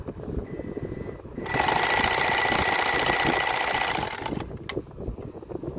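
A Janome zigzag sewing machine runs a straight stitch, its close, steady whirring motor holding for about three seconds before stopping, with faint background noise around it.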